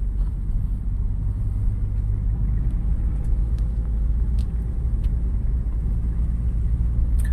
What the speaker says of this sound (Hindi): सेकंड गियर में कार को चला रहे हैं।